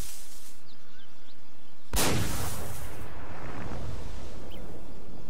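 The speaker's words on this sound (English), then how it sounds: "And he's gone and shot something again." A single loud gunshot rings out in the PS2 game Kingdom Hearts, a sharp blast at about two seconds that leaves a long rumbling echo fading across the rest of the moment after a quiet start.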